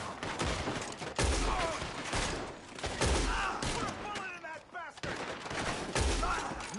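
Repeated gunfire bursts crack in the Red Dead Redemption 2 video game, volleys of rapid shots and heavy booms arriving in waves, with game characters' voices and other action sounds mixed in.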